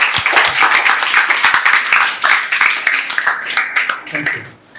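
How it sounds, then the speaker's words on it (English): A classroom of students clapping for a classmate during a class leader election interview round, brisk dense applause throughout with voices talking over it. "Clap for her."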